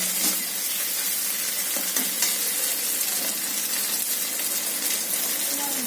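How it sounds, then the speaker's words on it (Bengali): Spice paste with tomato sauce and chopped chilli fries and is stirred in a hot pan, a steady close sizzle with soft scraping strokes running throughout and no talk. "আমি ভালো করে মশলাটা কষিয়ে নিচ্ছি।"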